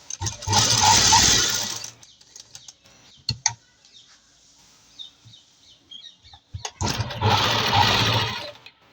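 A sewing machine stitches the neck onto a kurti in two loud bursts of fast, steady whirring, at the start and again near the end, with quiet handling and small clicks in between.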